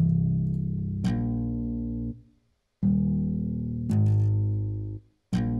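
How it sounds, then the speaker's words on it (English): Deep, sustained synth bass notes from Ethno 6 on its lowest octave, held for about a second each, with brief silent gaps between phrases; no voices. "I used this bass from Ethno 6. It's on its lowest octave"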